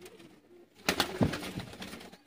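A Sialkoti pigeon coos in a few soft, low, throaty bursts close by, with faint rustling and quiet gaps in between.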